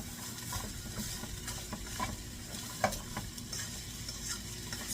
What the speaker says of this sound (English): I'm going to continue to stir this because I wanted to get coated in the rest of the oil